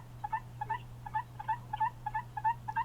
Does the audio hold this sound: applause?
no